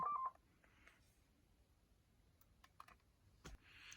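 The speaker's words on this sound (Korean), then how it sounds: "홈 버튼을 누른 상태에서 파워를 누릅니다" Button presses on a Yaesu FT-857D amateur radio transceiver during a factory reset: a short beep tone at the start, then scattered quiet clicks and taps, close and faint.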